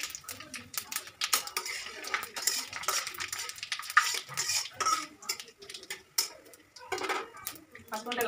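Panch phoron spices go into hot oil in a pan while khichuri is cooked, giving crackling pops, sizzle and metallic utensil clatter, close by, with a person talking throughout.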